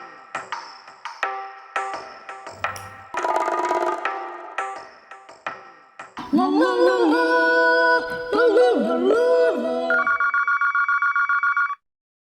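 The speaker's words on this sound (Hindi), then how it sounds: "फोन बजेगा इनके घर में, उठेगा यहाँ" A telephone rings in a home in a comedy sketch, sounding a series of electronic ring bursts. Ascending tonal patterns and a long sustained tone follow, loud and close with no talk, then the ringing cuts off abruptly.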